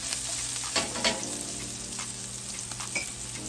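Garlic, green onion and parsley sauteing in a pan give a steady, close sizzle and frying crackle with a few brief stirring scrapes, and no voices are heard.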